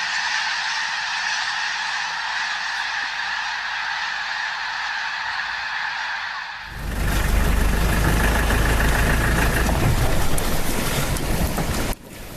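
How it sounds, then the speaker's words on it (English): A large migrating bird flock calls in a dense, continuous honking chorus, loud and steady, before a sudden shift to a broad roaring rush like massed wings or wind that fills the rest. "a thunderous chorus of wings and calls that can be heard for miles"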